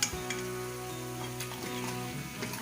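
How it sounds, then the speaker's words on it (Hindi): Mutton and spinach fry in the meat's own fat with no oil added, a steady close sizzle and crackle that runs through the whole short stretch with no voices over it. "ये इसको इसी में भूनना है"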